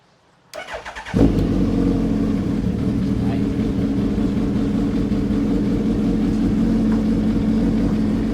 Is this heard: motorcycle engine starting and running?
yes